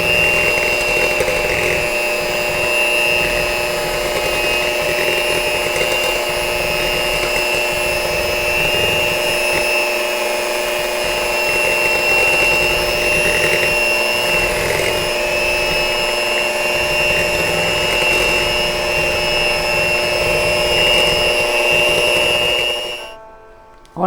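An electric mixer whirs steadily and loudly for over twenty seconds while blending almond flour bread batter with coconut oil, a constant high motor whine with faint rhythmic churning below, stopping abruptly at the end.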